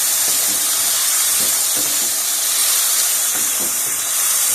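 Chicken seasoned with black pepper and salt frying in a pan for tikka macaroni, a continuous close hiss and sizzle with a few soft pops and clinks scattered through.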